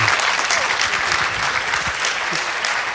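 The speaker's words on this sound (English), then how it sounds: "So, ladies and gentlemen, please show your appreciation to Aung San Suu Kyi" A lecture audience at the Asia Society applauds for an address by Aung San Suu Kyi, steady dense clapping from many hands, close and loud throughout.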